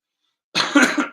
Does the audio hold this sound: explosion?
no